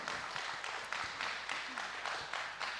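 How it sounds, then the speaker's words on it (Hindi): A talk show audience claps in a steady, moderately faint wash of applause that swells in regular pulses, with no voices over it. "तालियों से हम बहन जी का स्वागत करते हैं"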